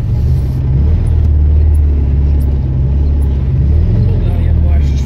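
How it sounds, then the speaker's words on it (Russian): An old Zaporozhets car drives off-road in January, its engine a loud, close, steady low rumble heard from inside the vehicle. Muffled voices may be present under the drone. "Едем на боевом Запорожце"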